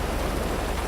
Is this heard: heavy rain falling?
yes